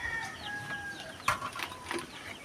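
Chickens clucking around a rural Filipino backyard coop at feeding time, faint and somewhat distant, with a few short calls and chirps scattered over steady low background noise.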